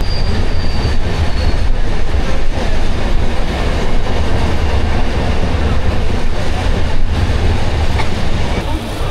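A packed passenger train between Kolkata and Deoghar runs on the rails with a loud, steady rumble, rattling carriages and faint wheel squeal, heard continuously from close by.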